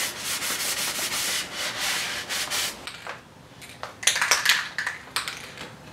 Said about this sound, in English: what I'm going to do is dust it off. Just using some paper towels